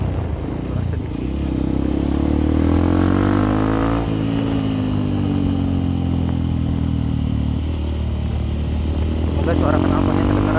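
Motorcycle fitted with a Nobifumi TORC aftermarket exhaust, a steady deep drone that shifts in pitch as the throttle changes while riding on a road, loud and continuous throughout.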